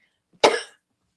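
One sharp, close cough from an adult man, brief and isolated against silence.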